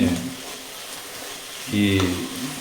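Mustard seeds splutter and sizzle in hot oil with a steady crackle, rising briefly in a louder burst, while a voice speaks nearby over the cooking.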